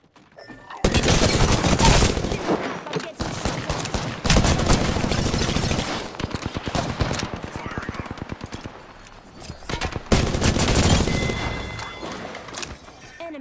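Rapid bursts of gunfire in a battle-royale style shooter, loud and close, coming in dense volleys with short pauses between them, mixed with other game effects.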